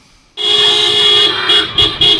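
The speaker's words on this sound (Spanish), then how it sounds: "Comenzaron a sonar las bocinas y la gente comenzó a salir corriendo de diferentes lugares" Car horns honking in a street scene with people running from different places, a loud sustained blare starting abruptly with several overlapping horn blasts and pulses, heard through a played clip.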